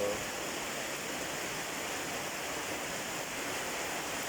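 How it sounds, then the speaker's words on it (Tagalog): Steady, dense rushing of fast-moving flood water fills the clip without pause, a continuous broadband roar with no voices. "Lakas ng baha."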